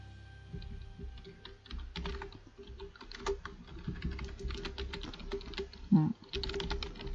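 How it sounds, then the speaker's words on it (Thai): Steady typing on a computer keyboard during a live football transfer-news talk show, with rapid, uneven clusters of close key clicks and a couple of louder knocks, no talk. "ขอพิมพ์ปักหมุดคอมเมนต์ไว้ก่อนนะครับ"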